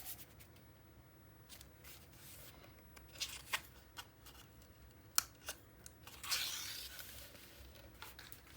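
Scissors snipping through cardstock for a vintage library mini album page, a few soft rustling cuts and crisp snips, quiet and close, with one brighter rasping cut near the end.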